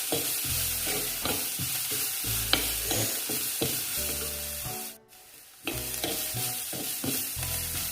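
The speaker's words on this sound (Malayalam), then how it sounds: "ഉള്ളി ചെറുതായിട്ടൊന്ന് വഴന്നിട്ടുണ്ട്. അതിൻ്റെ കൂടെ നമ്മൾ ഈ തേങ്ങ നുറുക്കി വെച്ചിരിക്കുന്നത് ഇട്ട് കൊടുക്കാം" Chopped onion and coconut sautéing in a pan for a mushroom recipe, a steady sizzle with rhythmic scraping stirs, briefly dropping out before the frying resumes.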